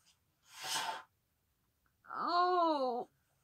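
A short breathy burst, then a drawn-out tonal wail about a second long, close and fairly loud, with silence between.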